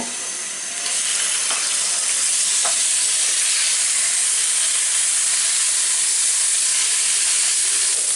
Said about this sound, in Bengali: ওই বেরেড করা মুরগিটুকু ভেজে নিব।